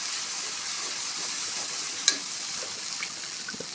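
Ground turmeric dropped into hot oil with dried chillies, frying with a steady bright hiss and sizzle, one small clink partway through and a few faint spatters, no voices.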